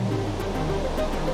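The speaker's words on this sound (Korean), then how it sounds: "2m가 넘는 높은 파도가 해안가를 덮치는데요." High ocean waves over two metres crash onto a South Indian shore in storm weather, a loud, continuous roar of surf close by.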